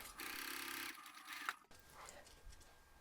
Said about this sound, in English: we'll top stitch 1/8 of an inch to each side of that seam